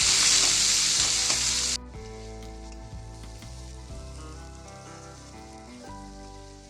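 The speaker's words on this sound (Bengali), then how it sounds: "ফোড়ন থেকে সুগন্ধ বেরোলে স্লাইস করা পেঁয়াজগুলো দিয়ে দিন। কিছুক্ষণ নাড়াচাড়া করে হালকা" Loud hissing sizzle as sliced onions hit hot oil, then quieter frying with rhythmic scraping and stirring over it; no talking.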